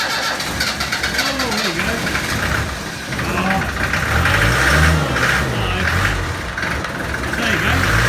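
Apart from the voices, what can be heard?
Land Rover Series 3 diesel engine starting after glow plugs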